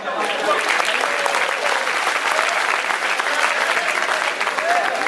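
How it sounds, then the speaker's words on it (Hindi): A college festival audience at a shayari performance breaks into loud, sustained applause, a thick continuous roar of clapping with crowd noise mixed in. "उन सबके लिए जोरदार तालियां हो जाए"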